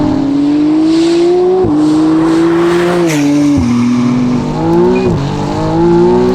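720hp Novitec McLaren Artura with a race exhaust driving hard, loud engine note climbing through the revs with several sharp shifts and drops in pitch, heard close from inside the car.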